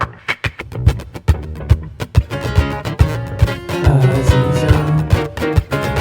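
Layered looped guitar tracks from a song build up over percussive body-tap hits, extra parts entering and thickening the sound as it leads into the chorus, loud and rhythmic with no voices.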